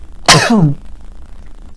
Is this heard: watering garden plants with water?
no